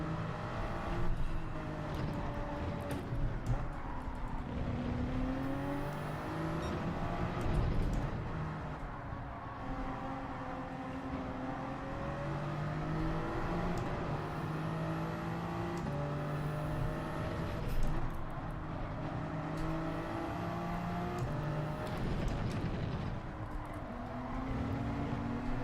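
Race cars in a Gran Turismo 7 race, including a Porsche, roar steadily with engine tones rising and falling through gear changes and cars passing close, sustained and loud throughout without talk.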